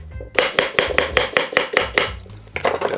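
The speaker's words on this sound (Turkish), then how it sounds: "Şimdi piyaz soğan doğruyorum zeminine." Rapid, even knife chops slicing onions on a cutting board, about a dozen sharp strikes in a quick rhythm, close and loud.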